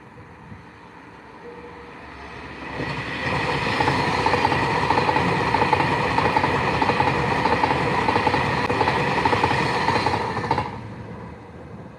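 A Pendolino train rushes past on the line, a broad roar swelling after a few seconds, holding loud and steady for about eight seconds with rattling wheels, then cutting off and fading.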